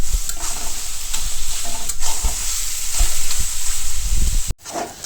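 Shrimp and taro fry in a pan, a loud close sizzle carrying repeated scraping stirs throughout, until a sharp clatter near the end and a brief quieter moment before the sizzle comes back.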